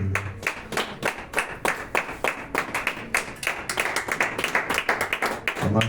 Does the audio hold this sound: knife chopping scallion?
no